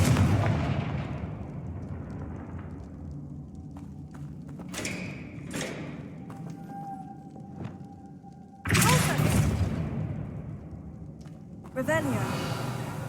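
In Hogwarts Legacy, a Confringo blasting spell explodes with heavy booming thumps followed by rumbling decay, loud and close, with a second burst later. A voice speaks in-game alongside.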